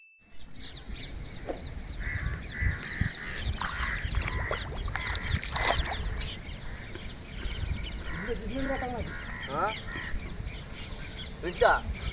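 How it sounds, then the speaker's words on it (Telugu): Crows caw and sparrows chirp in scattered bursts around an outdoor spot in farm fields, with voices and general background noise underneath. "కాకులు పిచ్చుకలు తెగరిసేస్తున్నాయి"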